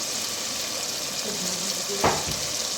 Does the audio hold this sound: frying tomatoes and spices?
yes